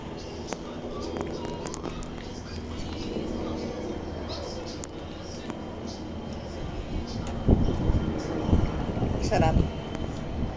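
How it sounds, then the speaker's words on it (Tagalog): Strong gusts of wind on a sunny but thundery day buffet the microphone with a steady, low rumbling roar that swells into louder, choppier bursts toward the end. "Pero malakas ang hangin."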